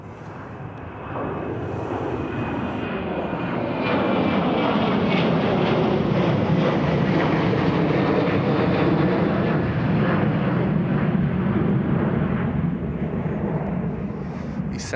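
Boeing 777 jet engines roar at Toronto airport, a loud, broad rumble that swells after a few seconds and holds steady, close and continuous, with no voices over it.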